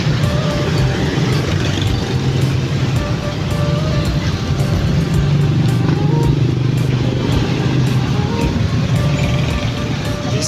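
Heavy road traffic of cars and motorcycles on a congested street en route to a church, a dense, steady engine rumble and hiss heard from inside or beside the flow, loud and continuous for the whole stretch.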